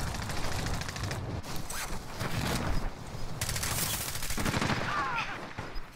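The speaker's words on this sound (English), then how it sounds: "I hear shots" Gunfire in the video game Call of Duty: Warzone, several bursts and rapid shots at moderate distance over a constant background din.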